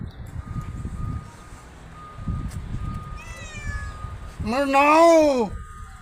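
Amid low background rumble, a person voices a drawn-out, rising and falling meow imitating a cat near the end, calling to cats, after a fainter high wavering tone.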